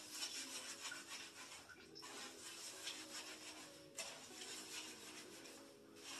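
Shampoo is worked into hair, a close, soft rubbing and squishing of suds in repeated strokes, quiet and without talk.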